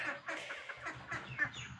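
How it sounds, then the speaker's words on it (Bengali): A red rooster clucking close by, a quick series of short, low, throaty clucks in an uneven rhythm, fairly quiet, with faint background noise and no talking. "এটা হচ্ছে রাতা মোরগ"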